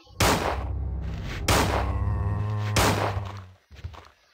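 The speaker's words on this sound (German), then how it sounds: "Die Waffe geht zu schnell ab. Ich verschieße hier unnötig Schuss." Three loud gunshots in the video game Resident Evil 2, evenly spaced with ringing tails, followed by a softer clatter, with no talk.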